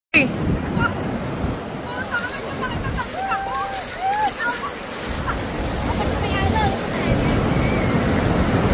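Ocean surf from big waves roars steadily with wind buffeting the microphone, while faint voices and bird-like calls sound in the distance, on a coast in General Nakar, Quezon.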